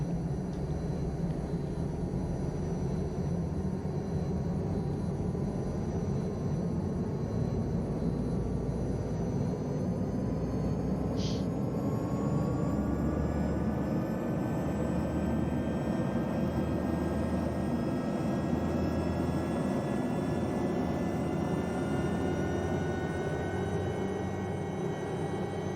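An SA315B Lama helicopter's turbine engine and rotor run steadily on the ground after the clutch engages, a loud continuous whine and drone with rising tonal pitch and no voices.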